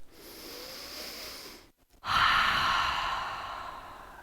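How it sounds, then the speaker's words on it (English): A deep cleansing breath during a yoga session: a long, close inhale, a brief pause, then a full, audible sighing exhale that slowly fades. "Take a deep cleansing breath."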